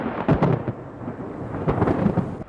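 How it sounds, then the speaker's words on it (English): A violent continental thunderstorm rolls in with deep rumbles of thunder that swell and fade over steady rain, with no voices. "We also get continental thunderstorms which come off the land, very violent thunderstorms"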